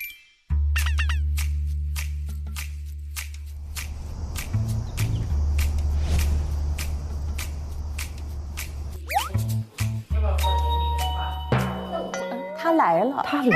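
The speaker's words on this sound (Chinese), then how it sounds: "他带着聒噪的门铃声来了" A noisy electronic doorbell at a guesthouse plays a sustained ringing chime for several seconds, close and loud, with people talking over and after it.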